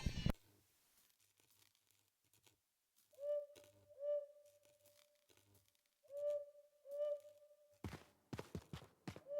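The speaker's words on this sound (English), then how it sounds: "I hear the owl hooting." An owl in the video game Mimesis gives repeated low, hollow hoots, four or five spaced evenly a second or two apart over near-silence. Brief thumps open the passage and harsher sounds close it.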